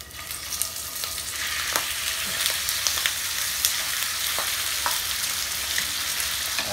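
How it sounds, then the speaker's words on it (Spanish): Salted chicken fries in hot oil, a dense, steady sizzle with scattered crackles and pops, close and fairly loud, with no voices over it. "Ahí, a que se caliente el aceite y ponemos el pollo."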